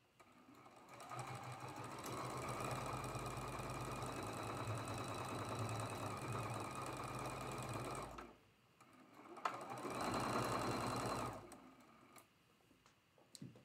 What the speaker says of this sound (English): Then we'll flip it and sew it down